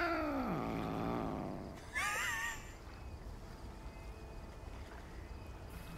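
Cat yowling in the video game Lake, a long loud drawn-out meow close by, then a shorter second cry, followed by quiet ambient lakeside background with no talking.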